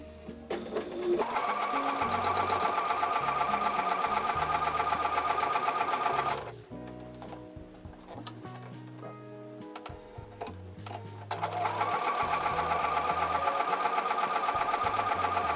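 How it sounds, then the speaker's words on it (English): A sewing machine stitching quarter square triangles together in pairs for an 8-inch Solitaire quilt block gives a steady, fast whirring hum. It stops briefly in the middle, then starts again at the same even pace. "I'm going to sew them together in pairs first."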